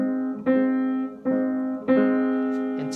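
Three piano chords struck in turn with uneven voicing, each one's notes arriving slightly apart instead of together, ringing and decaying briefly between strikes in a quiet room.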